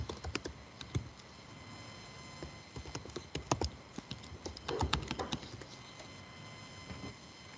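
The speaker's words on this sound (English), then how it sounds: "I can hear some people typing in the background." Background typing on computer keyboards during an online lecture, irregular clusters of quick key clicks, fairly faint and distant, with no talk over it.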